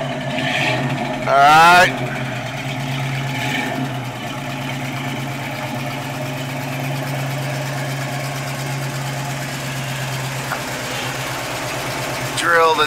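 A lowered 1967 Ford Mustang restomod idles steadily with a low, even engine rumble, close by, after a brief blip near the start; someone speaks briefly over it.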